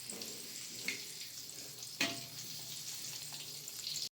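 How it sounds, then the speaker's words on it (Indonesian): Green eggplant frying in hot oil for an Indonesian home-cooked meal, a steady close sizzle with a couple of brief clatters or stirs and a faint watery hiss, no talk. "Pertama kita goreng terong hijau."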